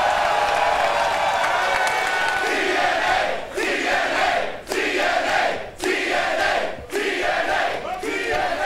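A large wrestling crowd at a live show in Chicago roars and chants in rhythmic surges, loud and dense, with pulsing bursts of cheering and clapping.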